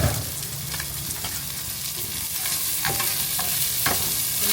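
Vegetables sizzle and crackle as they are stirred in a little olive oil in a hot pan, a constant close frying hiss with occasional scraping of the utensil.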